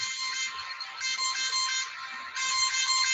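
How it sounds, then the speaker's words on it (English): A phone alarm goes off with a bright electronic ringtone, repeating in bursts of a few pulses with short gaps, loud and alone. "That's my damn phone alarm going off for some unknown reason."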